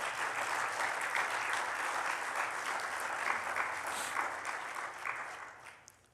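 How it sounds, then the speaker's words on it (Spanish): A church congregation claps hard and steadily for several seconds in a dense, sustained burst of applause, fading out at the end. "Denle un aplauso fuerte al Señor."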